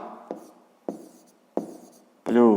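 A pen writes out a maths exercise by hand, three short scratchy strokes spaced about half a second apart, close and quiet, with a voice starting to speak at the end.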